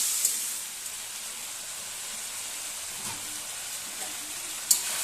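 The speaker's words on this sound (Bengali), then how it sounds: "ভাজতে একটু সময় লাগবে, ঢেকে ঢেকে দিয়ে আমি এটা ভালোভাবে ভেজে নিচ্ছি।" Vegetables for chowmein fry in a covered pan, giving a steady soft hiss of sizzling at low level with a faint clink near the end.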